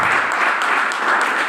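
Audience applause filling a hall, a steady dense wash of many hands clapping for the full moment at even loudness, with no voices over it.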